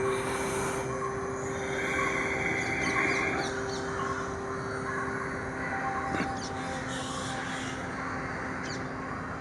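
Evening birds sing and call outdoors during a yoga practice, with crow-like caws and chirps scattered over a steady background hum, moderately distant and without talk.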